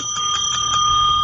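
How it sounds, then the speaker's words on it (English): A bright bell rings repeatedly in a radio studio, several quick sharp dings in close succession with sustained metallic ringing, loud and near. "Inappropriate bell."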